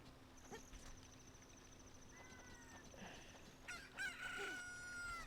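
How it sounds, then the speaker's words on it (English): A newly hatched chicken crows in Legend of Zelda Ocarina of Time, a faint game sound effect near the end, with clucking over a quiet tonal background. "A chicken hatched from the egg you were incubating!"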